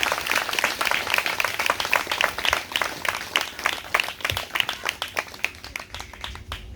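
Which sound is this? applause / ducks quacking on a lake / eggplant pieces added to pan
applause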